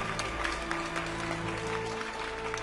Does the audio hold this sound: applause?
yes